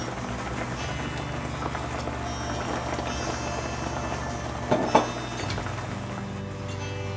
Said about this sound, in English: It's been boiling for about 10 minutes now.